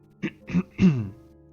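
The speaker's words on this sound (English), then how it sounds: "I clear my throat" A person clears their throat in three short, close guttural bursts, the last one longer and more voiced, with quiet between them and no speech.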